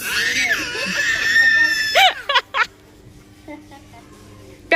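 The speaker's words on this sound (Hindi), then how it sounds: "ये तो चिल्ला रहा है मौसी देख।" A young child screams and cries close by, with a long high wail followed by several short, sharp yelps, then quieter sounds in the background.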